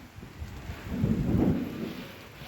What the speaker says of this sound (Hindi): यहाँ पे हो चुकी है बारिश का मौसम, इतना भयंकर बन गया है